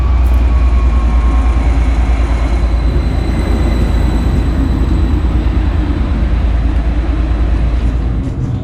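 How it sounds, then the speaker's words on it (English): A freight train rumbles at a railway station in Niš, Serbia: a loud, steady low roar of engine and wagons that runs unbroken the whole time, with faint high tones above it. "Stop here for the crew change with freight trains,"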